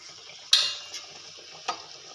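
Egg puffs dropped into hot oil for frying, with a soft steady sizzle broken by a sharp clatter of a utensil and another brief knock.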